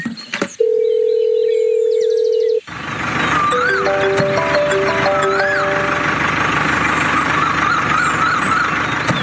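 A steady telephone dial tone sounds in a cartoon, loud and continuous for about two seconds before it cuts off. Busy cartoon music and effects then take over.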